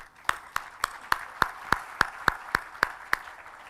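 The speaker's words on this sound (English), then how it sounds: "So if we can give them and their dedication a round of applause." About a dozen sharp, evenly spaced claps at a brisk, steady rhythm, close and distinct, sounding like coordinated hand clapping at a community unity banquet.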